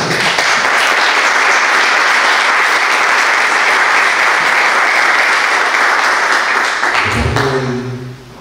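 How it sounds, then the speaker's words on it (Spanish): Audience applause for a doctor after a talk on prostate cancer: loud, dense, sustained clapping from a full room that ends abruptly near the close, followed by a brief low voice. "Un aplauso para él."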